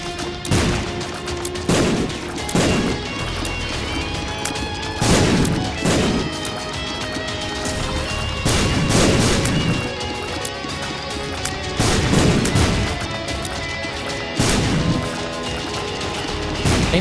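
Bombs explode in The Binding of Isaac: Rebirth, a rapid series of sharp booms and crashes in a crowded room, spaced a second or two apart and sometimes overlapping, over a constant din of game sound.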